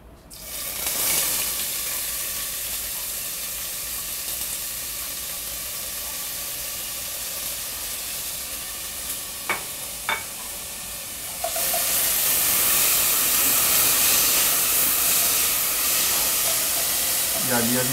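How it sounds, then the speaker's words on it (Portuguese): Green and red bell peppers hit hot olive oil in a pan, giving a steady close hiss of sizzling that swells louder partway through, with a couple of brief clinks and a voice speaking over it. "a gente pôs o azeite ali, o que a gente vai jogar? Os pimentões"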